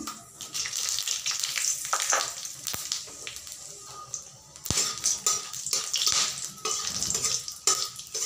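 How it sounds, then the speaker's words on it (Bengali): Whole spices crackle and sizzle loudly in hot oil left from frying small potatoes for a Bengali alur dum, a steady close frying hiss with utensil stirs and scrapes, a brief pause near the middle. "ওই তেলে আমি এখন কিছু ফোড়ন দিয়ে দিচ্ছি"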